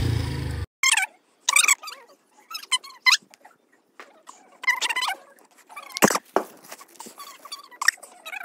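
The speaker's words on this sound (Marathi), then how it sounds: "हे कुत्रा त्याच्यासोबत येऊन" A dog at a roadside spot late at night gives several short yelps and squeaky whimpers in bursts, fairly close, with quiet gaps between them and no talking.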